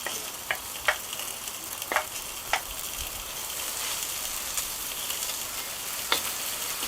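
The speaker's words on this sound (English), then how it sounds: "we're going to add the quinoa into the vegetables and give that a little stir so it all has a nice even temperature" Vegetables and quinoa sizzle steadily in a hot pan as they are stirred, with soft scraping and a few sharp utensil taps against the pan over a constant frying hiss.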